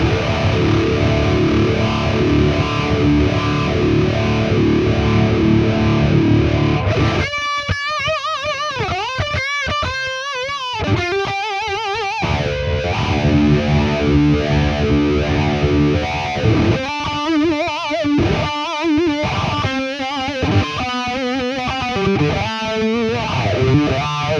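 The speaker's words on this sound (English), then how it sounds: "with the depth, you're gonna be able to, dig deep into that scoop so you can really hear that wah come out of it" Electric guitar through a wah effect with the depth turned up, distorted chords and sweeping filtered riffs in bursts, loud and without talk.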